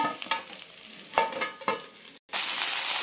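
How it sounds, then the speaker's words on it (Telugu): Tender okra (bhindi) fries in a pan and is stirred, giving a steady close sizzle broken by several scraping stirs and a brief gap before the frying resumes loudly. "ఇలా మధ్య కలుపుతూ ఉండాలి"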